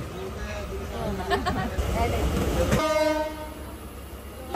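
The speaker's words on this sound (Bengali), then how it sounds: "তো 15 মিনিটের মতো ওয়েট করার পরে ট্রেন অবশেষে ছেড়ে দিল।" A passenger train leaving a station on a trip from Rajshahi toward the Sundarbans, with rumbling railcars, a horn blast near the end, and crowd chatter mixed in, close and loud.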